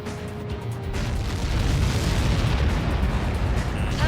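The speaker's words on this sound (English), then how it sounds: "How many got caught in that explosion?" A missile impact explosion in the jet combat game Ace Combat 7 swells into a heavy, rolling low rumble that stays loud and steady for several seconds, with no talking.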